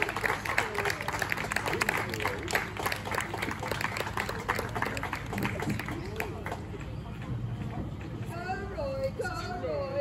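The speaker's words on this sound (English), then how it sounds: "Can we give Roy Williams a round of applause" Steady applause and cheering from a crowd, with voices calling out over the clapping throughout.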